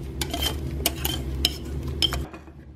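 Utensil stirring quiche batter with lumps of egg white in a bowl, soft scraping with several sharp clinks against the dish, close and fairly quiet, no voices.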